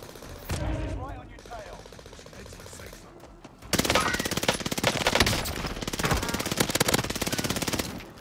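Gunfire from a soldier on a wall near a winery in a shooting video game, first sparse shots under a voice, then sustained loud automatic bursts in rapid rhythm.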